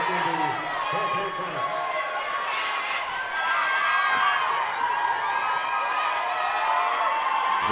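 Crowd ovation at a men's college basketball game, a broad roar of cheering and chatter filling the gym throughout, with an announcer talking over it.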